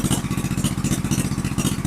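A motorcycle engine revs hard and close, a loud, steady pulsing drone with rapid rhythmic firing throughout, no voices over it.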